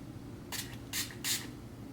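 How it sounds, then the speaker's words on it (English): Makeup setting spray misted onto a brush in three short, quick pumps, each a crisp hiss against a quiet background. "I'm gonna take this spray again and spray the brush"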